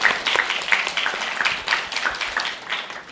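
An audience at a Korean arts high school literary event applauds steadily, a dense mid-level clatter of many hands that holds evenly for a few seconds with no voices over it.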